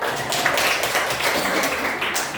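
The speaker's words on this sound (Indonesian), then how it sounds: "Tepuk tangan." Schoolchildren in a classroom clap their hands together, a loud, dense spatter of claps that runs steadily for a couple of seconds.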